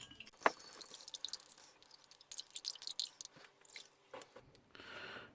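Orange drink powder from a US MRE ration stirred into water in a pouch, producing faint, scattered clicks, taps and wet crinkles, close and quiet, with no talking.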